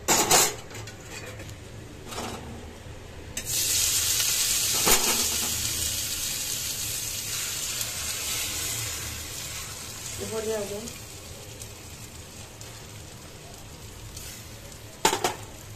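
Boiled noodles with egg sizzling in a wok on the stove, a loud, steady hiss that swells and lingers, with occasional clanks of utensils and a brief voice in the background.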